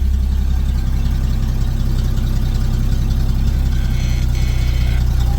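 The engine of a 1972 Chevrolet truck with a three-on-the-tree gearbox idles at close range, a loud steady low rumble with an even pulsing throb throughout and no voices.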